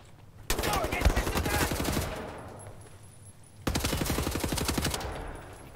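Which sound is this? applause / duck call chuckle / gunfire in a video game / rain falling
gunfire in a video game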